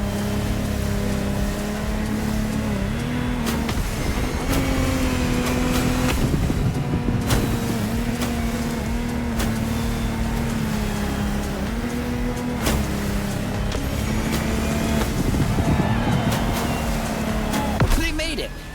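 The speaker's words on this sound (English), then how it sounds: "our challenger handled that gorgeous Lamborghini Technomar like a true sailor" A Lamborghini Technomar powerboat races across open water in The Crew Motorfest, its engine a steady loud drone with spray and wave wash throughout, shifting pitch slightly as it surges, with a voice faintly present at moments.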